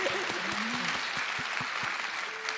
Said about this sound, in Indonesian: Oke, kasih tepuk tangan dong buat Griselin.